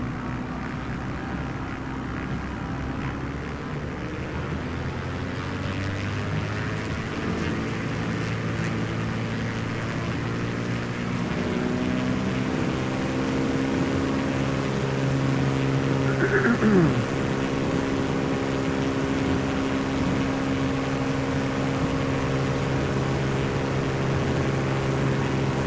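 In a flight simulator game, an airplane engine drones steadily through takeoff, its tone rising slowly in pitch and growing a little louder as it spools up over nearly half a minute.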